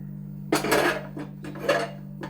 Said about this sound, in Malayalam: ഇനി ചിക്കൻ നമുക്ക് ഒരു ടോങ് വെച്ചിട്ട് മാറ്റി വെക്കാം, ഒരു ബൗളിലേക്ക് മാറ്റി വെക്കാം.